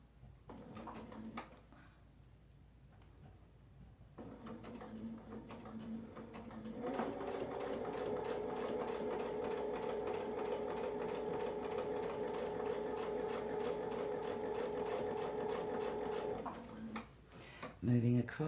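A sewing machine runs a zigzag stitch across a quilting block with a fast, even mechanical chatter that lasts about ten seconds. Shorter bursts and clicks come before it, and a voice speaks during the quieter start.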